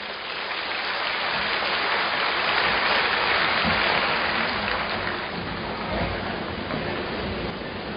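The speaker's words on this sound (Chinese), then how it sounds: "让我们掌声欢迎。" A hall audience at a Buddhist dharma-sharing session gives sustained, dense applause that swells in the middle and then eases slightly, a rain-like wash of clapping with no voices.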